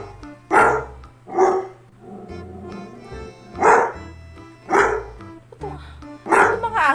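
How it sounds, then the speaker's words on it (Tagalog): A dog barks repeatedly in loud, separate bursts about a second apart, close by, with a low steady hum underneath. "Ingay po na aso."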